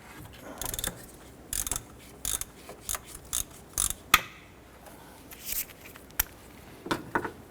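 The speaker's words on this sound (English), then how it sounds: "Let's go ahead, loosen and remove that center bolt." A hand ratchet with a T50 Torx bit clicks in short bursts as it loosens the center Torx bolt on a 1993-1997 Ford Ranger serpentine belt tensioner. The close, sharp pawl clicks come in repeated strokes with brief gaps.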